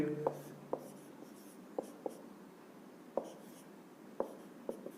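Someone writes a chemical equation for a law of mass action lesson on a board, making soft scratching with several sharp, evenly spaced taps, fairly close and quiet with little background.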